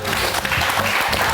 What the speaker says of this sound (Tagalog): May palakpak talaga.